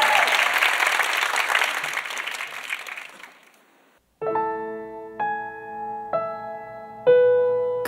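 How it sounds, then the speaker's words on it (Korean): Studio audience at an All That Music performance applauding loudly. The clapping thins and fades out after a few seconds, then gives way to quiet piano chords opening a ballad. "박수 많이 쳐주세요."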